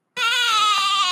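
A single goat bleat sound effect, loud and close, one sustained wavering cry lasting about a second.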